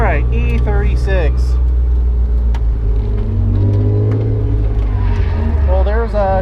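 A BMW E36 325i drift car on Firestone Firehawk tires is driven: the engine revs up and down in loud, rising and falling sweeps over a heavy cabin rumble, with a voice talking over it.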